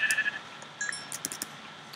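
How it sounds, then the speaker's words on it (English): Sheep in Minecraft bleat a few times in short, faint, high calls over a low background hum, with small clicks and game sounds scattered between them. "Oh, hey, another sheepy sheep."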